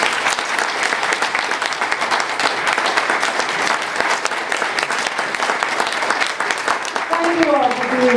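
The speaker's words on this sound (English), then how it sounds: "Let's give a round of applause then." A convention Q&A audience gives sustained applause, with dense, even clapping that carries on loud and steady throughout. A voice briefly rises near the end.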